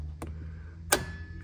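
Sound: squeezing the gear shifter into neutral with a click

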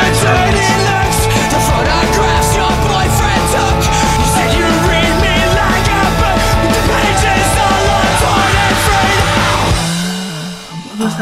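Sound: scream in a song

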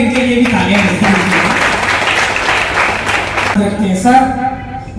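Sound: applause

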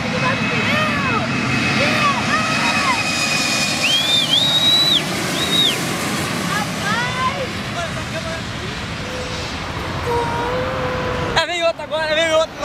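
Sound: airplane landing and braking on the runway

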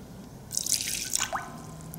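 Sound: hands moving in a dish of water

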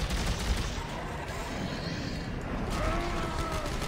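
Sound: gunfire shooting at a monster in video game Dead Space 3

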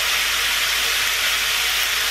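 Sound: chicken with salt, paprika, garlic and chili powder cooking in pan

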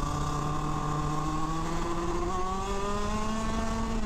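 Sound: shifter kart engine accelerating

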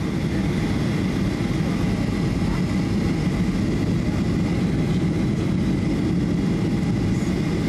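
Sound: airplane landing

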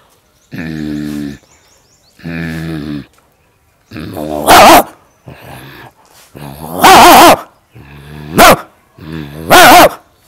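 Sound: man imitating a dog growling and barking

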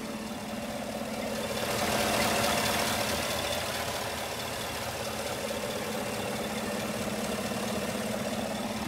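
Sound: 2016 Chevy Silverado truck engine idling, hood open

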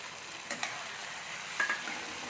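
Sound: soaked sabudana being stirred in ghee

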